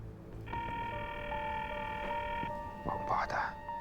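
A telephone call is dialed and fails to connect, producing a steady electronic line tone with faint sidetone in a quiet office, followed by a brief muffled voice at the end.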